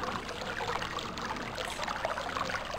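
Steady rushing and trickling water flows continuously at moderate level in the video game realMyst, with no other sounds over it.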